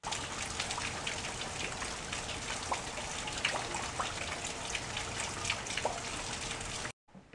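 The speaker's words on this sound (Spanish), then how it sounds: "Aquí en Arizona casi no llueve, así es que cuando llueve es algo emocionante." Rain falls in Arizona in a steady close patter and trickle, with scattered louder drips standing out, before the sound cuts off abruptly near the end.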